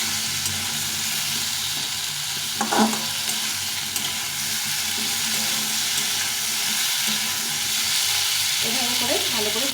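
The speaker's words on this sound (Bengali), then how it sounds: "এখন ভালো করে সুন্দরভাবে ভেজে নিতে হবে টমেটো আর আলুটাকে" Tomato and potato fry in a pan for a plain potato-tomato curry, making a loud, continuous sizzle with occasional scraping stirs up close and no talking.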